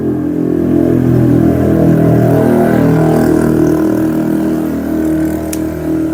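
A vehicle engine rumbles steadily and loudly throughout, a low continuous exhaust drone with slight revving.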